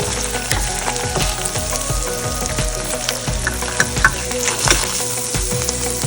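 Egg frying in a pan with oil, a steady close sizzle with rapid popping and crackling that stays loud and even throughout, with no talking.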